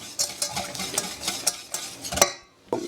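A utensil stirs a thick béchamel sauce in a pan, producing repeated scraping and soft sloshing strokes in a steady rhythm, close and moderately loud, ending with a brief pause and one more scrape.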